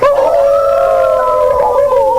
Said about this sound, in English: from under the elevator I heard the long drawn out howl of a timber wolf